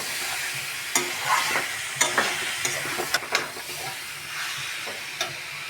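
Sweet mango pickle with red chilli powder fries in a kadai, giving a low continuous sizzle broken by several sharp scraping stirs of a spatula against the pan.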